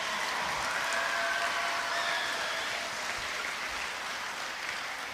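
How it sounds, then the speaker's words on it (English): A crowd at a cross country team sendoff applauds steadily, a continuous hissing wash of clapping that holds even for several seconds with no voices over it. "Let's give them one more big round of applause."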